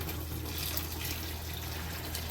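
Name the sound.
additional water poured into a pot of soaking beans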